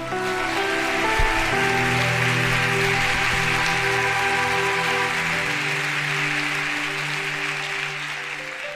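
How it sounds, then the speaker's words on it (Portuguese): Sustained applause from a church congregation, a dense, even wash of many hands clapping that holds steady with a faint musical drone beneath it. "dê um aplauso ao Senhor."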